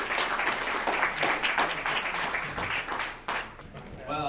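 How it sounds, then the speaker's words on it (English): Audience applause for the panelists at a Bitcoin and tech conference, a dense crowd of clapping that holds steady for several seconds and then thins out near the end, with some voices mixed in. "Let's have a big round of applause for our panelists."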